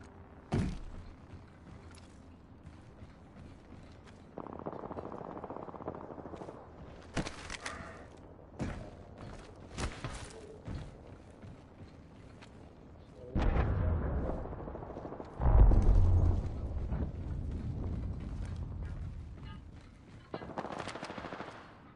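Rainbow Six video game gunfire: sharp single shots and short bursts crack out at irregular intervals, with a louder, heavier stretch of rapid fire near the end over a low background rumble.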